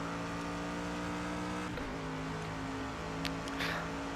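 A Mercedes race car engine in the Project CARS racing game drones loud and steady, dipping in pitch partway through as if shifting, then pulling on with a brief high squeal near the end; no one speaks.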